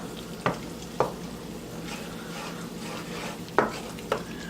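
Sage leaves sizzling in bubbling butter on the stove, a low steady fry under four sharp clinks of a utensil against the pan.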